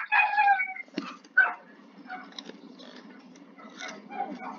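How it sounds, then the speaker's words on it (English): Several dogs bark and yip in short bursts, a sharp close bark near the start, then fainter scattered barks trailing off, fairly quiet overall. "Apparently they're barking."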